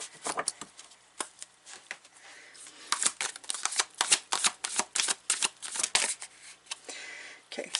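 A deck of tarot cards is shuffled close up, giving rapid bursts of flicking and riffling paper clicks that grow denser toward the end, with no voices.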